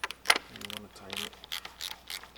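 Ratcheting and mechanical clicks from tightening a new oil filter on a 2024 Audi Q5 during an oil change, a few short close bursts with some quiet speech mixed in.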